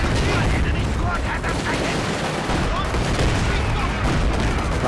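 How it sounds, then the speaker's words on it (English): Heavy battle noise from Company of Heroes 2 with a grenade and gunfire, a dense continuous roar of automatic shots and blasts at constant high loudness, with talk faintly mixed underneath. "I'm gonna go ahead and toss a grenade there"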